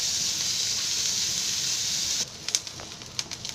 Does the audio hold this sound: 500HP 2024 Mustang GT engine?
no